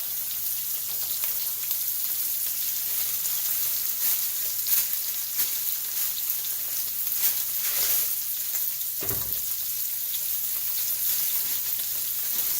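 Steak frying in a hot pan gives a steady, close sizzle with fine crackling and popping throughout, and a brief louder burst of spatter near the middle.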